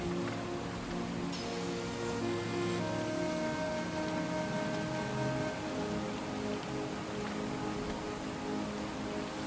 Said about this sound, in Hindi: जहां सिर्फ प्रकृति की आवाज है और सामने बहती हुई है पवित्र नदी